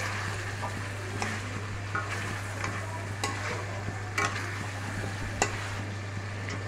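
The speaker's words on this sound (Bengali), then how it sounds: "এই চিকেন কষা হচ্ছে" Chicken sautéed with spices in oil in a pan, a continuous close sizzle with repeated scraping strokes of a spatula and a low steady hum underneath.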